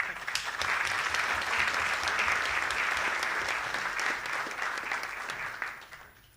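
Sustained audience applause at a Bioseg 2019 congress in Iquique fills the room for about six seconds, steady and dense, then tapers off near the end.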